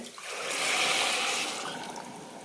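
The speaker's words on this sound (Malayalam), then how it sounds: "ഇനി ഇതിലേക്ക് വെള്ളം ഒഴിക്കാം ഒരു കപ്പ് അരിക്ക് രണ്ട് കപ്പ് വെള്ളമാണ് ഒഴിക്കുന്നത്" Water poured from a cup into a pot of rice for jeera rice, a steady bright splashing pour rising in the first half second and holding up close for the whole stretch, with no talking.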